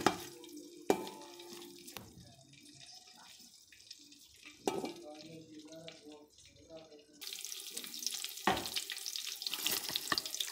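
Whole garam masala, curry leaves, cloves, black pepper and cumin fry in hot oil for a chicken kofta biryani, with a soft steady sizzle, occasional clinks of stirring, and louder hissing toward the end.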